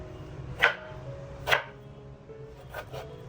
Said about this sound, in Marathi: पण टमाटर कापायचे राहिले ते आपण आता कापून घेतोय